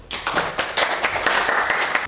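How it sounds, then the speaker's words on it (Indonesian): A classroom of students claps for their group, with a loose, uneven burst of hand claps at close range, the individual slaps clearly separated and steady for a couple of seconds, no talking over them. "Tepuk tangan dulu untuk kelompok 1."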